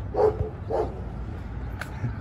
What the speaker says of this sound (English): We got a dog over there.